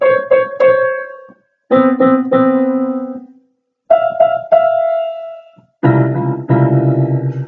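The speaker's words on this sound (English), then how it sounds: "Those are all minor seconds." Piano playing minor seconds, two adjacent notes sounded together or in quick succession, in four separate groups of short ringing strikes divided by brief silences, with no talking.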